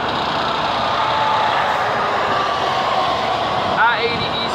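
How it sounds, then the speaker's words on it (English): Cars and trucks passing on the I-80 eastbound highway near Minooka, Illinois, a steady broad roar of traffic, with a brief squeal near the end. "there's other cars and trucks weaving their way through traffic coming back this way"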